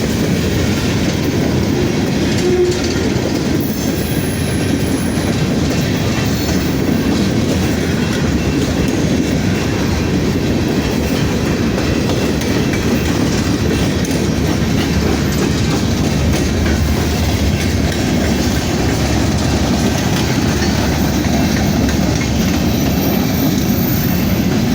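Two freight trains pass together in the same direction, a loud, continuous rumble of railcars with rhythmic clickety-clack from the wheels and a faint high squeal, close and unbroken throughout.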